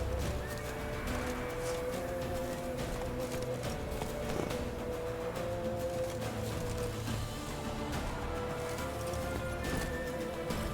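Roach the horse in a video game whinnies amid continuous galloping hoofbeats and loud game music, the neigh blending into a dense, steady mix rather than standing alone.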